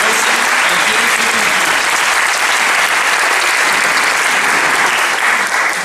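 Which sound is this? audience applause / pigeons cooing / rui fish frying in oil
audience applause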